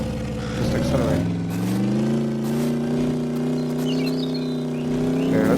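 A truck engine in the cosy delivery simulator Truckful, holding a steady accelerating drone with a slowly rising tonal whine, loud and continuous without pauses.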